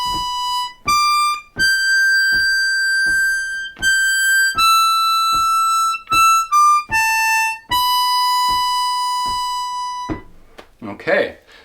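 A harmonica plays a lick from the solo of a song: a slow phrase of clean, sustained single notes that step up and down, each held for a beat or more, loud and close, with no voice.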